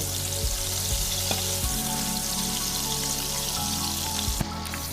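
Chopped onions frying and being stirred in a pan for Bengali mutton kosha with garlic, a steady close sizzle with occasional spoon scrapes and a brief clink near the end.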